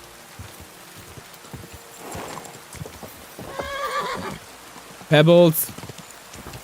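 A horse in a medieval Bohemia video game clip-clops along, then gives a loud, close whinny near the end over a rain-like background; someone speaks briefly during the hoofbeats.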